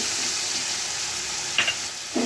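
Chicken pieces and chopped tomatoes frying in a hot pan, giving a continuous close sizzle with a couple of short stirring clatters near the end.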